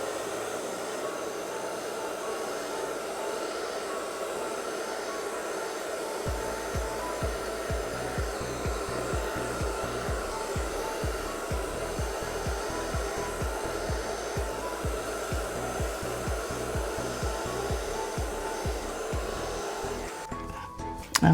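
A blower pushes a steady, loud rush of air across a wet Dutch-pour acrylic paint surface, running continuously for about twenty seconds with a faint fluttering texture.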